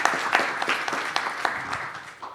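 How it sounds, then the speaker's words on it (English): Applause at a conference session on biogas, biomethane and biohydrogen: a moderate, fairly close round of clapping from a modest audience, steady for a couple of seconds and fading slightly at the end. "But we give a second applause."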